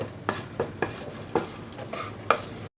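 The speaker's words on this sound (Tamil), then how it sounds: "இப்போ நம்மளோட முந்திரி உலர் திராட்சையும் வறுபட்டு வந்துருச்சு." Cashews and raisins frying in a pan, stirred with a spoon in a few distinct scraping strokes over a faint, steady sizzle, close up with no talking.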